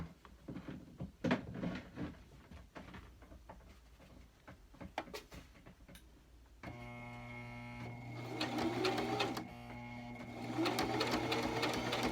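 A sewing machine runs steadily, stitching a face mask with a nose strip. The motor starts partway through after quieter handling noises and keeps a continuous hum to the end, growing slightly louder.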